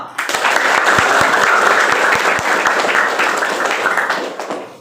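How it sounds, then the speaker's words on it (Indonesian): A classroom full of students clapping steadily together, loud and close, with a few sharper individual claps standing out over the dense patter. "Tepuk tangan lagi untuk kita semua."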